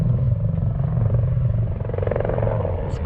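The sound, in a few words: helicopter flying over Dakar rally cars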